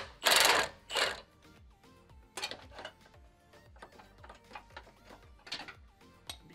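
An impact gun tightens bolts and nuts while an LED light bar is fitted to a 2015 Ram 2500 truck, giving a few loud bursts of hammering followed by quieter rattling mechanical clicks, close by.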